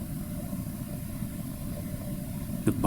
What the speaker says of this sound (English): It's not a bus, it's a garbage truck.